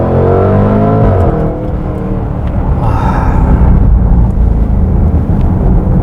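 Jaguar F-Pace SVR engine accelerating hard, a loud, close, deep roar that climbs in pitch through the gears, with a brief shift break and continuous rumbling power and no talk.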